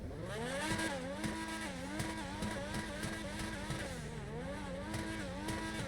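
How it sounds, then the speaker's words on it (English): Progen Tyrus sports car engine in GTA Online, a loud continuous revving drone that rises and falls through repeated throttle swells and gear changes, with no talking. "Just listen to this engine."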